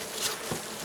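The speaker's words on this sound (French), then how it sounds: "En ce moment, les abeilles sont un peu énervées là" Agitated honey bees buzz around a Layens hive during a robbing period, making a brief, close, continuous drone.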